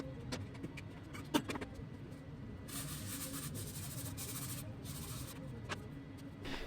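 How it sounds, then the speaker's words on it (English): A hand chisel squares up the corners of a small wooden coaster holder, giving faint scraping and paring strokes with a sharp tap near the start and a run of quiet shaving sounds. "Let's manually square these up with a chisel."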